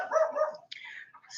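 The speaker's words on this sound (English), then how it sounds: "Can you get that dog, please?" A dog indoors barks in a short burst of sharp yips, fairly close and clear, with a brief pause between calls.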